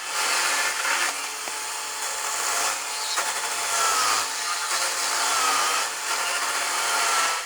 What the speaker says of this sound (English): It made an extremely quick cut through the 150 millimeter thick tree trunk.